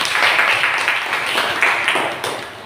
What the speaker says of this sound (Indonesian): kelompok 1 kasih tepuk tangan